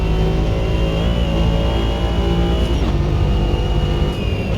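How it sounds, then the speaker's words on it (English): Race car engine in a racing video game drones at a steady high, strained pitch, loud and continuous with slight revving shifts throughout and no voices. "Is this what this car really sounds like?"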